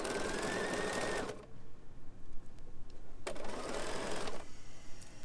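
A Bernina sewing machine with foot 3C stitches shirring elastic in two loud, steady motor-driven runs, close up, separated by a pause filled with fabric handling and low room noise.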